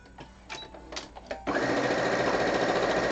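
After a few soft handling knocks, a sewing machine starts abruptly and runs loud and continuous, stitching closed the sides of fabric strips for dice bags.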